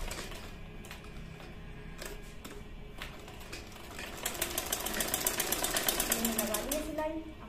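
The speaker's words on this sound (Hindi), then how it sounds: "और मैं इस पर सिलाई लगा।" A sewing machine stitches a homemade cloth face mask, its rapid mechanical needle chatter picking up and running steadily in the latter half, close and fairly loud over room noise.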